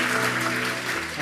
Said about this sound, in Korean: 한 번 더 우리 축복의 박수를